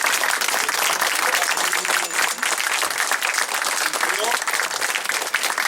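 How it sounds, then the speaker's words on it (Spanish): Sustained crowd applause breaks out for a man during a guided cemetery tour, dense and steady clapping from many hands throughout, fairly loud and close, with some voices mixed in. "yo creo que merece también un aplauso muy grande"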